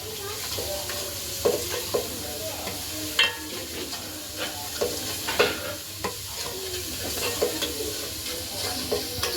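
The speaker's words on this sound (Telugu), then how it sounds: "ఇప్పుడు అల్లం వెల్లిపాయ పేస్టు ఎంచుకుందాం ఫ్రెష్గా రెడీ చేశాను ఒకసారి తిప్పుకుందాం" Fresh ginger garlic paste sizzles steadily in a hot pan while a spoon scrapes and taps against it at irregular moments.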